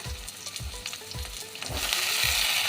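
Cauliflower florets drop into a pan of hot oil where potatoes are already frying, giving a steady close sizzle with repeated low thumps and a crackle that grows louder toward the end.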